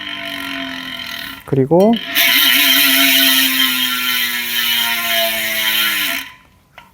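An Elite Drive Helix bicycle hub ratchet whirs loudly and close, a dense buzzing click that rises briefly in pitch then holds a steady low-mid tone before cutting off, with a brief spoken word near the start.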